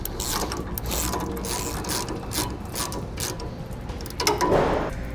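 Rapid ratchet clicks run continuously as U-bolts are tightened on a Roadmaster Reflex steering stabilizer bracket on a 2018 Ford, close and steady, with a brief louder burst of cranking near the end.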